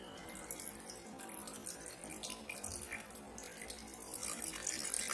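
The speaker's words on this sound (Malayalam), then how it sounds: "അത് നമുക്ക് ഒരു മിക്സിൻ്റെ ജാറിലേക്ക് ഒഴിക്കാം" Squeezed lime juice is poured into a mixer jar, a quiet continuous trickle and splash of liquid into the container, close and faint, with no talk.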